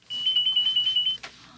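A telephone at a work site rings with a rapid electronic trill of about ten quick repeated pulses, loud and close, then stops abruptly and is followed by a brief clatter as it is picked up.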